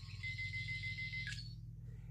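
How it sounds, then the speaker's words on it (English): Steady, high electronic tones from a toy sonic screwdriver drone for over a second, then a sharp chirping beep flashes out as its power crystal flashes, before the sound cuts away, over a low constant hum. "at the end, the power crystal like flashes with beeps"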